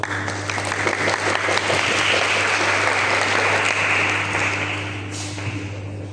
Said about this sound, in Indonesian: tepuk tangan dulu dong untuk Kak Rama